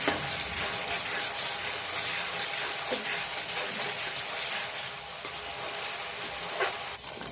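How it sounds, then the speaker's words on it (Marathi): Masala roasting in a kadhai for paneer masala rice gives a steady, close, bright sizzle with faint scraping of stirring, continuous for the whole stretch and no voices. "बघा आता आपला मसाला चांगला भाजून झाला आहे"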